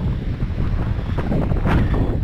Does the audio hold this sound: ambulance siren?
no